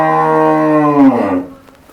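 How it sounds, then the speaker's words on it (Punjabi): A single long moo from a Holstein Friesian heifer, loud and close, with a steady harmonic drone that slides lower and fades out near the end. "ਡੱਬੀ ਵੱਛੀ ਆ ਬਿਲਕੁਲ ਐਚਐਫ ਬਰੀਡ ਦੇ ਵਿੱਚ ਆ"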